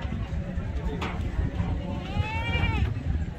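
A goat bleats at a busy livestock market in Faisalabad, one wavering, drawn-out call rising over a constant crowd murmur and low rumble, with a short sharp knock just before it.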